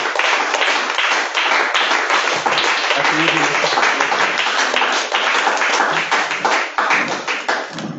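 A congregation at a Thursday church service applauds steadily and loudly, close and dense clapping throughout, with voices mixed into the crowd noise.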